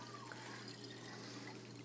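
Water poured into the reservoir of a Bellman CX25 electric espresso maker, a soft continuous trickle and splash, quiet and close.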